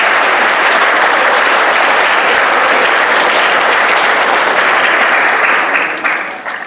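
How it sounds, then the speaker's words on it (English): A large audience at a village State of the Community meeting in Holly gives George from the Township a loud, full round of applause that holds steady for about six seconds, then fades out. "How about a round of applause for George from the Township?"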